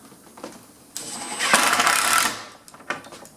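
A screw gun drives a screw into a door hinge on an interior door jamb kit: a few light clicks, then a loud, close whirring burst of about a second that winds down, followed by more faint knocks.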